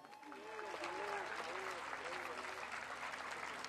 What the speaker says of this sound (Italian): Grazie, un applauso al meraviglioso Leoni Novoselsky